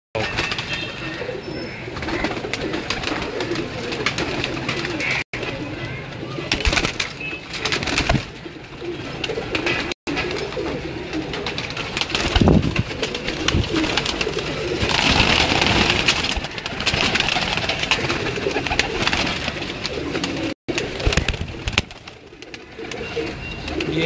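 Golden pakar pigeons, a home-bred breed kept on a rooftop setup, coo repeatedly in soft low bursts against steady background noise, with occasional faint voices.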